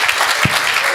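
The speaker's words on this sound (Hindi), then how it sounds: "तालियां तो इस बात पे बजाना साहब" Short burst of audience applause at a live Hindi comedy show, a dense steady patter of clapping from a crowd throughout.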